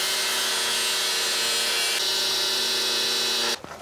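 A power tool grinds steadily through a bent suspension arm on a BMW E31 840Ci under restoration, a loud continuous whine with a slight shift in pitch partway, then cutting out abruptly near the end.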